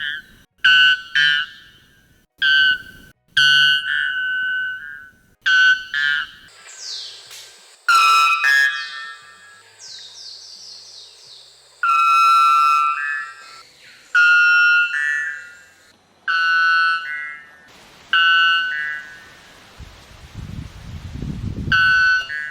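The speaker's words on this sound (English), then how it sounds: "the white bellbird is also known for its extremely loud and piercing call" Loud, piercing bell-like calls of a white bellbird ring out repeatedly in short, metallic bursts separated by silences, some tones sliding in pitch.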